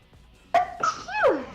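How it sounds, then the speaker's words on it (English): A single sharp sneeze up close, a brief explosive burst followed by a short trailing breath in an otherwise quiet room. "Gesundheit."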